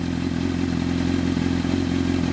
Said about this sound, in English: So that's what it sounds like at idle.